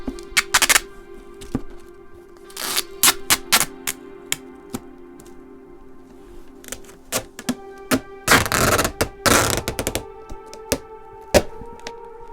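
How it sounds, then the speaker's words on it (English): Packing tape is pulled and pressed all around a cardboard box holding diecast cars, with a string of sharp rips, snaps and taps, some longer tearing screeches, all close and loud with no talking. "And then you just finish it off with this tape"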